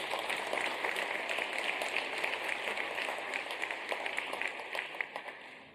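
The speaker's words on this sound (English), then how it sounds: "So another round of applause for them, please." An audience at a school district address applauds a jazz band, choir and cheerleaders; moderately distant, steady clapping with sharper individual claps standing out, tapering slightly toward the end.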